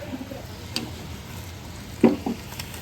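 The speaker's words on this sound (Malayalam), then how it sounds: "നമുക്ക് ഒന്ന് ഇളക്കി കൊടുക്കാം." A spoon stirs plantain in an iron pan over a faint sizzle, with soft scrapes and a couple of louder metallic knocks near the end.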